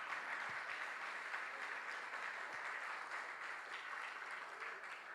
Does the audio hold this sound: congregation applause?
yes